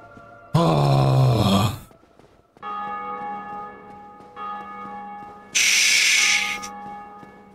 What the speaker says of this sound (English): No bells. No tolling of bells.